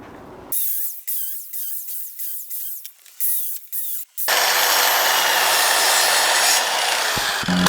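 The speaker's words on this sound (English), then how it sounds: "I'll have to finish those off with the handsaw, I think" A handsaw cuts through wooden posts in a workshop build, with about eight quick rasping strokes in a rhythmic run before a loud, steady broadband noise takes over and fills the rest.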